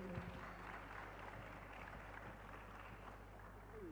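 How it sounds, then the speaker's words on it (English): Audience applause welcomes speakers onto a stage at a talk event, a steady dense wash of clapping that holds at an even level throughout, with a low hum beneath. "Let's please welcome them on stage with a big round of applause"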